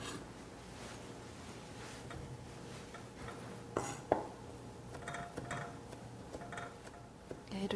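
A knife finely minces parsley leaves on a board, making a faint, irregular run of soft taps and clicks at close range, with a couple of sharper knocks in the middle.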